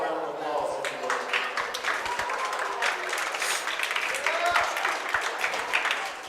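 A crowd at a junior livestock stock show applauds in a sustained round of clapping while an announcer keeps talking over it.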